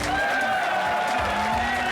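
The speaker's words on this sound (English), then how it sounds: "Huge round of applause for our number 2 qualifier" Crowd at a 2005 Formula Drift event in Houston applauding and cheering a qualifier, a steady wash of clapping under a tonal hum and a lower engine-like drone.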